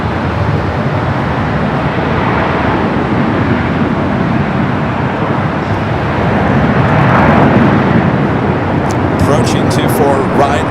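A Boeing 787 Dreamliner airliner rolls down runway 24L at LAX, a loud, broad roar that builds toward the middle, with a few sharp clicks near the end.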